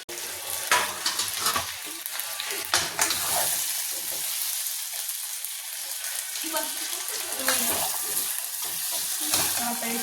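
Fried bombil (Bombay duck) and brinjal curry stirred together in a hot pan, with steady sizzling and frying crackle plus scraping stir strokes through the clip, fairly close and continuous.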